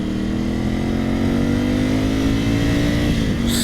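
A 2020 Ducati Scrambler 1100 motorcycle engine revs up steadily, its pitch climbing as it accelerates, loud and close throughout with a constant roar.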